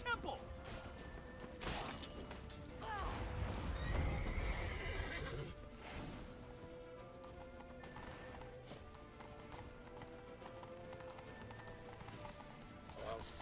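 Horses gallop with steady clip-clop hoofbeats and loud neighs during a chase in The Witcher 3: Wild Hunt, mixed with shouting voices, clatter and game music throughout.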